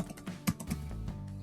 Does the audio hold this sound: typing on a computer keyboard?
yes